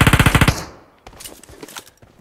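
Rapid burst of video game gunfire, roughly ten sharp shots in quick succession, loud and close, then fading into quieter clicks and scattered game sounds.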